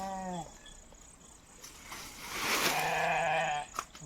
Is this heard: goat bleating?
yes